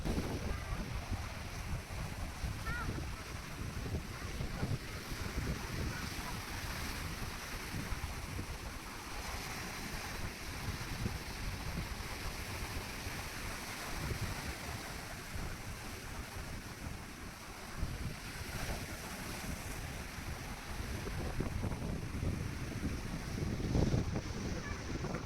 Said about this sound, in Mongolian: гарч далай сонсгоё